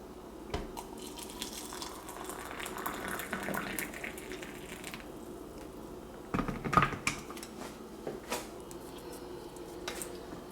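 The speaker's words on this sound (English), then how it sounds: "Let's see how it pours." Water pours from a Hamilton Beach glass electric kettle in soft, faint splashing bursts, with light clinks of glass partway through, all at a low, close level and no voices.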